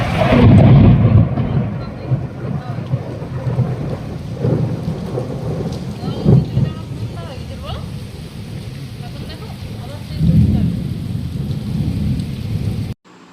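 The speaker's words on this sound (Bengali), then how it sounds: "একদিকে বৃষ্টি হচ্ছে, এদিকে সূর্য উঠছে" Steady heavy rain pours through a thunderstorm, with deep rolling thunder swelling loudly at the start and again near the end, and softer rumbles in between.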